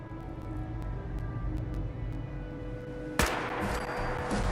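A single sharp gunshot from a weapon in Fallout 4, fired against a low steady ambient hum, sudden and loud, with a brief rumbling tail afterward.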